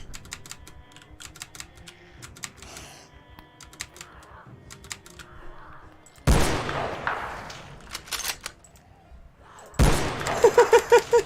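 Two gunshots fired from a rifle chambered in .308 Winchester in the zombie survival game Project Zomboid, each a loud sharp burst standing out after a stretch of quieter clicking and background noise.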